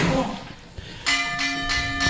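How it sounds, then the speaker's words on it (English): Ring bell at a live professional wrestling event, struck repeatedly so bright metallic clangs ring out in a steady rhythm with sustained overtones, loud over crowd noise and commentary. "Ring the bell."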